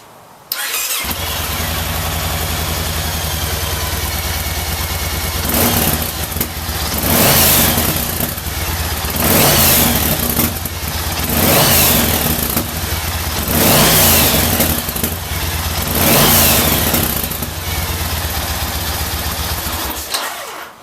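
A Yamaha Raider motorcycle engine fires up and idles, then is revved hard several times in a rhythmic series of rising roars, loud and close.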